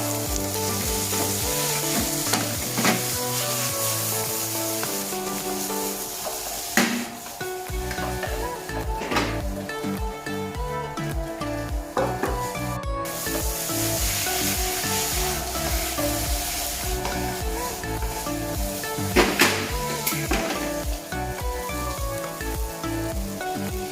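Penang char koay teow stir-fried in a hot wok as chives and bean sprouts go in, a loud, steady sizzle with scraping and clattering strokes of the spatula throughout, close and continuous.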